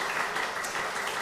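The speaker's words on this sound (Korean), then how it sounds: "우리 하나님께 영광의 박수 한번 돌리시기 바랍니다." A church congregation applauds during a Sunday worship service at Yeonggwang Church, a dense, even wash of many hands clapping together at full strength throughout.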